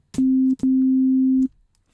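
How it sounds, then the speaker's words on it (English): A pure sine tone from synthesizer oscillator A in an FM bell and bass patch: a steady low pitch held twice, first briefly then for nearly a second, with a short gap between, clean and alone. "we have our basic sine wave on oscillator A here"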